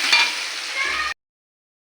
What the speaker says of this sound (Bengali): ভালো করে টমেটোটা একটু নাড়াচাড়া করে নিই